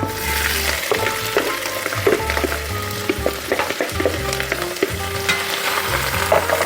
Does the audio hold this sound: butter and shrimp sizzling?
yes